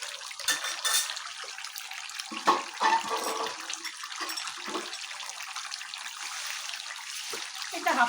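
Water is poured into a pan of cooking duck curry, making a steady, close splashing and gushing that continues throughout at moderate loudness, with a few brief louder surges.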